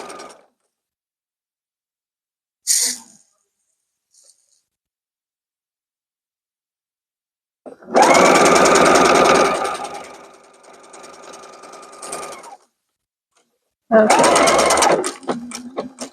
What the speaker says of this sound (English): I have set up my machine to knot and tie off at the same time